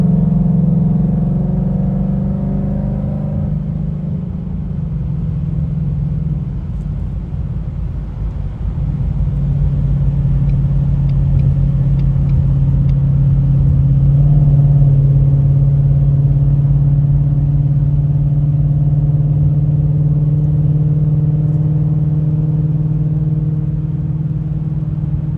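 Car cruising on the road behind a Jeep, with a Lotus nearby: a steady, loud engine rumble and road drone that holds throughout, swelling slightly in the middle as if accelerating, with no talking.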